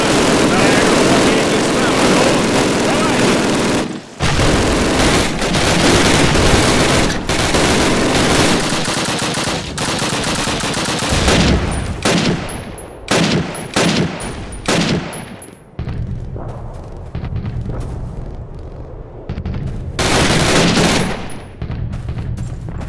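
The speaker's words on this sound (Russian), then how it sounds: "У них впереди два МГ-42." MG-42 machine gun fire in Call of Duty 1 on Veteran difficulty: long, very loud, rattling bursts of automatic fire broken by brief pauses, with other battlefield noise and occasional voices mixed in.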